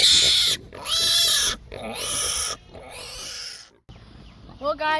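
Pigs being raised on a farm, about 210 pounds, grunt and squeal in loud bursts close by, several separate noisy calls broken by short gaps, with a higher squeal near the end.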